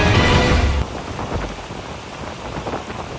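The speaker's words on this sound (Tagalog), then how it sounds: "Tila sinayaw ng malakas na hangin kasabay ng ulan ng mga sanga sa Boracay sa Malay Aklan" Strong typhoon wind and heavy rain lash Boracay in Malay, Aklan, a dense, steady roar of rain with gusting wind that starts loud and eases slightly after the first second, with no voices.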